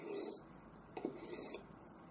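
A knife blade is drawn along a Buck EdgeTek Ultra Flipstik diamond sharpening rod in a few soft rasping strokes, faint and close, with quiet gaps between them.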